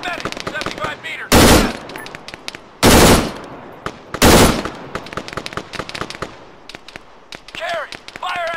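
Gunfire rattles through an Arma 3 video game battle: rapid, sharp single shots crack throughout, broken by three loud, long automatic bursts, with shouted commands from soldiers between them.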